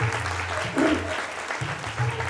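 An audience at a community felicitation gathering claps in a brief, moderate burst of applause that carries on evenly at mid distance.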